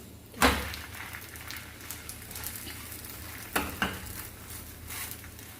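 Tortilla for chicken tacos cooking in oil on a hot tawa, giving a continuous sizzle broken by a sharp scrape early on and two more clattery knocks later, with no voices.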